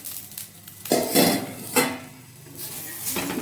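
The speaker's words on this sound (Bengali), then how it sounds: "এবার আমি ঢাকা খুলে দেখবো" A metal lid lifted off a pan of chicken pitha cooking over low to medium heat, with a few loud clanks and scrapes of metal between a soft steady background hiss, all close up.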